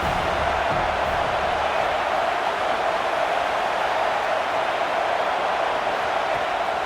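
Stadium crowd noise from a college football video game, Syracuse at Utah, rolls on as a constant, even roar with no distinct cheers rising out of it.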